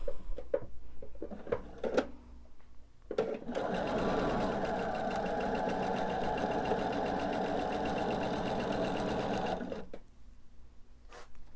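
Sewing machine stitching a scant quarter-inch seam on a quilt block, a steady close whirring run of about six seconds between short clicks and handling noises, with no talk.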